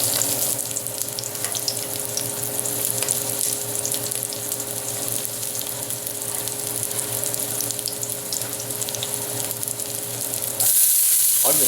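Garlic sizzling hard in hot canola oil inside a heated Dutch oven, a steady loud crackling fry that runs throughout with no talking, then a brief shift near the end.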